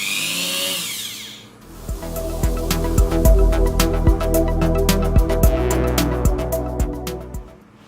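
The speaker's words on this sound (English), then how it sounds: "I'm going to be using a Dremel with a cutting tool on it, a cutting wheel" A Dremel rotary tool with a cutting wheel slices through a plastic car fuse box on a GT86, a loud, close, sustained high whine with rapid chattering pulses as the wheel bites, after a brief quieter start.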